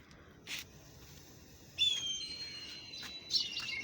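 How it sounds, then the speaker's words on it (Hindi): A small kite calls from outdoors beside a mustard and turnip vegetable field, giving a bright, thin, drawn-out high cry that follows a brief earlier chirp, moderately clear over a quiet background. "वो देखें चील कैसे बोल रही है"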